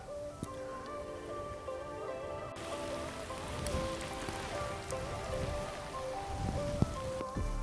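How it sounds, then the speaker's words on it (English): Steady rain patters on surfaces around an outdoor carp fishing spot at a day-ticket lake, a continuous soft hiss with occasional louder drips, heard alone. "The joys of fishing in the rain when you haven't got your raincoat on."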